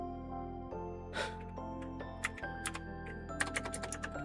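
Keys clacking on a computer keyboard during bookkeeping data entry, with irregular bursts of close, crisp keystrokes that thicken toward the end, over a steady low background hum and no talking.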